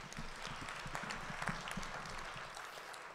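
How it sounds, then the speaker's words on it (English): A small audience gives a quiet, scattered round of applause, soft claps pattering steadily for a few seconds in an indoor room. "Let's give her a round of applause."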